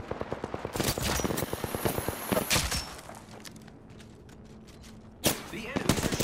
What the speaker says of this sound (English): The enemies are shooting you!